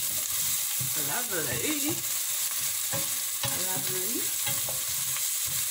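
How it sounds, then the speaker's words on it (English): Beefed-up rice frying in a pot is stirred steadily, a continuous close sizzle with scraping spoon strokes and a few brief clinks; a voice speaks briefly over it. "then we'll give this a good stir."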